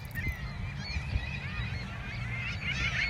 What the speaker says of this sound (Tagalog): There's lots of bird in there